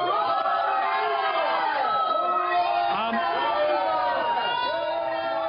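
Restaurant crowd cheering and whooping for War Eagle or Roll Tide, a dense, loud wall of mixed voices holding steady throughout.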